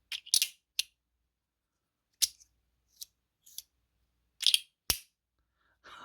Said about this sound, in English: Those clicks when it flips over is just like, there's nothing like the sound of a Compoform.